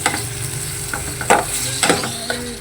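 Chicken pieces frying in hot oil for a macaroni dish, a dense continuous sizzle close up, with several clacks and scrapes of a utensil stirring the pan.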